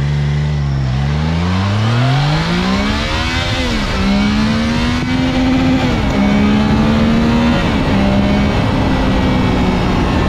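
A Triumph Trident 660 motorcycle accelerates hard through the gears, its engine note climbing, dropping at each shift and climbing again. The sound is loud and close, with steady wind rush throughout.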